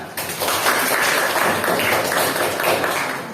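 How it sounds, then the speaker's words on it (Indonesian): Classroom applause: a burst of dense, rapid clapping from a group of students, fairly loud and sustained for a few seconds before tapering slightly. "tepuk tangan"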